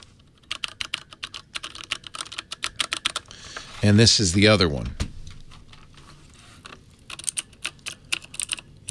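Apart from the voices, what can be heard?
typing on Code mechanical keyboards with Cherry switches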